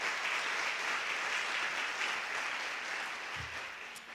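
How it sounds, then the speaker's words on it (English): A crowd applauds steadily with dense clapping that holds strong, then slowly thins and fades toward the end. "let's give another round of applause to Reverend Diane Garcia, Lena Motowala, and"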